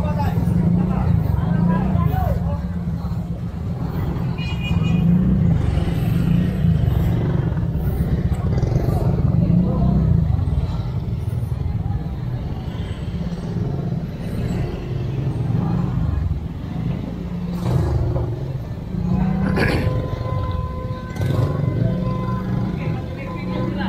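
Road traffic with cars, buses and trucks idling and rolling past in a steady low rumble, with crowd babble and voices of people talking throughout, plus occasional brief clanks.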